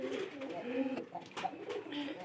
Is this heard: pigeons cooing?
yes